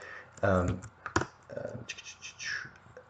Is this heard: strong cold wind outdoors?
no